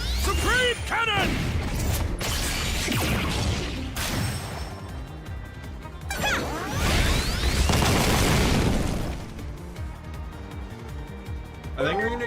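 A Supreme Cannon attack in the video game Digimon Time Stranger bursts out in booming crashes and whooshes, with loud blasts and pops rising in waves before settling into a steadier mechanical rumble.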